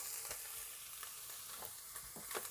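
Cooking oil added to cooked beef in a pot for pilau, a faint, steady sizzle with soft periodic scrapes of stirring, alone.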